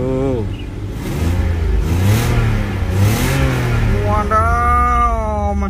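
A 1991 BMW 520i with the M50 Vanos engine revving, several rising and falling sweeps of a smooth mid-pitched engine note, close and loud, the last rev climbing sharply near the end.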